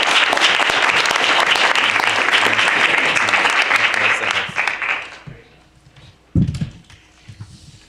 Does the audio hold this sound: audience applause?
yes